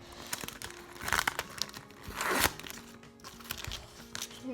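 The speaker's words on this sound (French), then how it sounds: "Je vais ouvrir le premier paquet." A Panini Tour de France 2020 sticker packet torn open up close, with repeated crinkling and ripping of foil wrapper in uneven bursts, the loudest tear near the middle, no talk.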